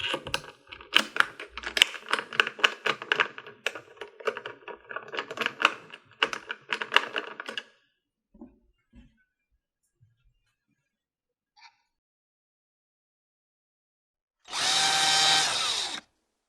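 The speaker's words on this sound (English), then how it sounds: "Now insert and tighten the 3rd screw located underneath the thumb turn." Clicks and rattles as screws are placed on an IQ Lock give way to a silent pause, then a power drill whirs loudly for about two seconds tightening the third screw.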